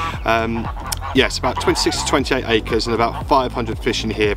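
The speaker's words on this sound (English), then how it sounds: "Excuse the goose in the background." A goose honks repeatedly in the background at a carp fishing lake in early spring, its calls mixed beneath a man's steady, close speech.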